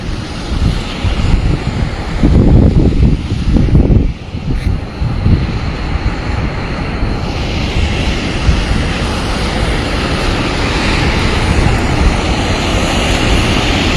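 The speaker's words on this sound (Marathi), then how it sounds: "खूप स्पीडनं पाणी येत आहे" Floodwater of the Girija river rushing fast through its bed in Bhokardan taluka, a loud, dense, continuous roar heard close up with wind buffeting the microphone and no one speaking.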